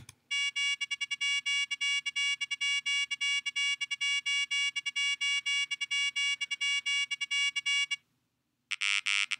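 Synthetic harmonic test tone for auditory research, pulsing rapidly and loudly for about eight seconds, then a short silence and a final brief tone of a different quality.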